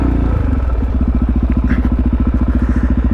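A supermoto motorcycle engine chugs loudly and close with a fast, regular pulsing beat while it rides through a construction site, and faint clatter sits underneath.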